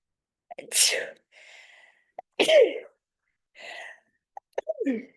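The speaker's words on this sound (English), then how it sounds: "I'm gonna sneeze" Several sneezes in a row, each a sharp burst with a breathy intake before it, close and loud, separated by short quiet gaps.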